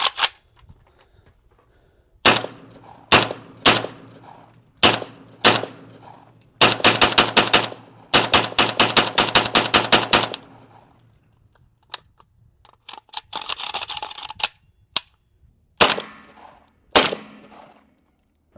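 A 300 Blackout PSA Krink rifle fires Magtech 200 grain subsonic rounds outdoors, starting with single sharp cracks, then a rapid burst of shots, followed by more separate shots and mechanical clatter between them.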